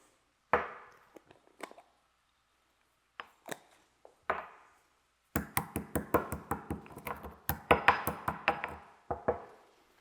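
White peppercorns are ground with sharp, close knocking strikes. A few scattered hits come first, then a fast, steady run of crisp blows.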